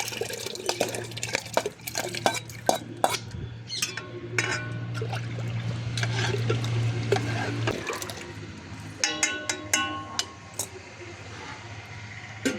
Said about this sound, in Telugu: ఇప్పుడే సగ్గుబియ్యం కూడా వేసేద్దాం, ఎందుకంటే అవన్నీ బాగా ఉడకాలి కదా